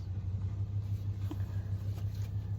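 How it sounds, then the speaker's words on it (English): A neighbor's loud truck engine rumbles steadily in a low, throbbing idle nearby, with a faint tap or two over the drone. "My neighbor's truck is loud"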